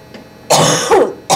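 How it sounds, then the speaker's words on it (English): A short throat clearing followed by a quick cough and a second cough, close and fairly loud. "Again, sorry about the coughing."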